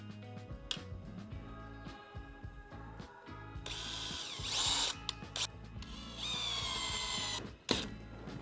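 A power drill drives screws to attach strap hinges to wooden boards, with several short whirring bursts and ratcheting clicks, up close and fairly quiet, with no talking.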